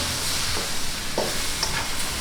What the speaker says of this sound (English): You can still hear that sizzle.